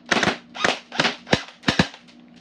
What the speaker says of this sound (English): On full auto, it's easy to get 1 or 2 shots.